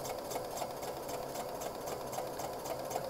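A domestic sewing machine stitches a garment sleeve in a steady, fast mechanical whir, continuous and close for the whole stretch with no talk over it.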